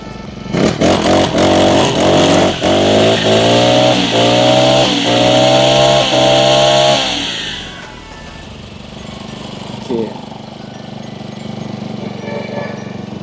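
A small four-stroke brush cutter engine revs hard in repeated bursts for several seconds, then drops back to a low idle with faint clunks, close by.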